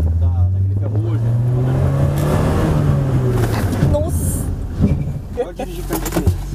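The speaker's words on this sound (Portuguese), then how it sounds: "Meteu um drift aí" Car drifting during a brake test, the engine revving with a rising and falling tone, loud and close, with voices talking over it and some rattling near the end.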